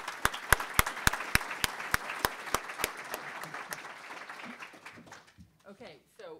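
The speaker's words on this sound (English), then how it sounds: "So a round of applause to Rusty." Applause from a conference audience: a scattered round of claps, fairly faint and steady at first, then thinning out and fading as a voice begins to speak at the end.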